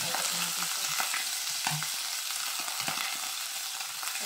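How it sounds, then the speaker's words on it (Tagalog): Small halved chicken wings sizzle and crackle steadily in hot oil in a pan, a dense close-up frying hiss with occasional stirring clinks and no talk. "And then, mag-fry tayo ng chicken wings."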